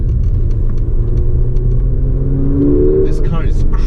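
A 2019 Mercedes-AMG GLA 45 engine pulls hard through a corner, a steady close rumble from inside the cabin that climbs in pitch toward the end, with a voice talking over it.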